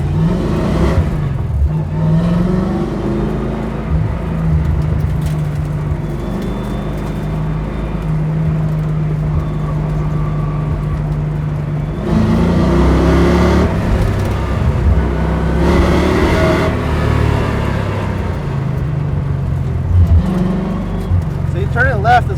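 A 1966 Ford Mustang with a carbureted engine that chokes in left turns drones and revs on a track day. The engine note swells and eases with throttle throughout while someone talks over it.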